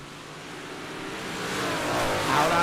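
Dirt track race cars roar down the backstretch, their engines swelling louder as they draw near and pass, with a steady rising rumble and no talking.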